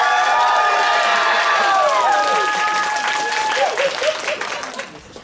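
An improv show audience clapping to vote for a performer, loud sustained applause with some cheering from a crowd that tapers off near the end, while a voice talks over it.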